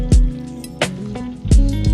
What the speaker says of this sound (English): pour the almond butter sauce over top and stir until evenly coated